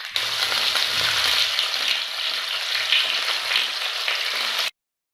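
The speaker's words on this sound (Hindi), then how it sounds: "आलू फ्राई हो रहे हैं।" Potatoes frying in hot oil in a home kitchen, a steady dense sizzle and crackle that runs loud and unbroken for nearly five seconds, with occasional stirring, then stops abruptly.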